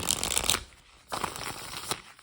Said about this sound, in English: chem cards shuffle like butter